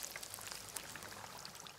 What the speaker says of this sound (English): just chill out with the sounds of Kentucky Fried Chicken